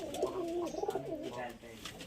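A Lotan pigeon coos in a quick run of rolling, warbling notes close by, with someone talking softly over part of it.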